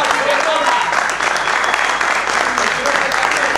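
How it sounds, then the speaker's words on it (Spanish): Loud, steady applause from a live audience greeting Ricardo Reza at a televised night vigil for the Temperley football squad, continuous crowd clapping throughout with some voices mixed in. "Un aplauso para Ricardo Reza"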